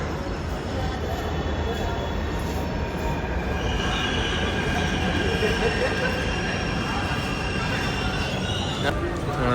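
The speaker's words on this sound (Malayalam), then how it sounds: "നമ്മളെ മെട്രോ വരുന്നുണ്ട്." A metro train rolls into a station in Jaipur with a loud continuous rumble and high metallic wheel squeal, close by and steady throughout.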